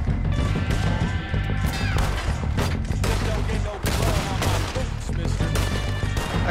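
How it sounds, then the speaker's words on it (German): Dense, loud gunfire in Red Dead Redemption 2, a rapid fusillade of overlapping shots and crashing impacts continuing throughout, with a voice talking faintly underneath. "von hier wird auch noch geschossen"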